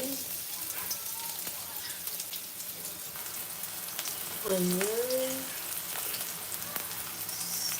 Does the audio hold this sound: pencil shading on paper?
no